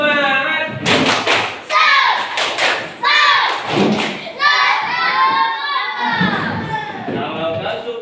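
Classroom children perform a rhythmic spirit clap together, sharp thuds and claps landing in patterned bursts mixed with lively children's voices and chanting throughout.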